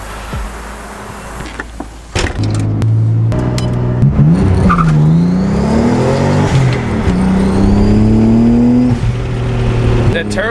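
A modified Nissan Z with a turbo revs hard, its rising engine note joined by turbo spool and sharp blow-off valve bursts, loud and close, with sporadic clicks and faint background voices.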